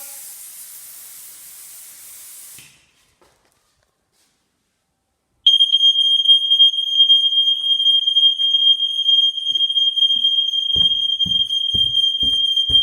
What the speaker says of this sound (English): There's a smoke alarm located in the open plan living area.